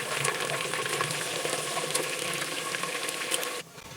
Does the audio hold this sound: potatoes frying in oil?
yes